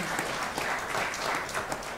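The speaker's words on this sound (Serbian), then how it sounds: "Maja Lalević, molim jedan aplauz" An audience at a book promotion claps in continuous, dense applause that holds steady for the full two seconds.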